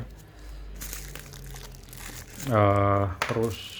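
Cardboard and plastic scraps are crumpled and stuffed as packing filler around a mini PC and display, a rustling crinkle under talk with a louder crunching burst near the end.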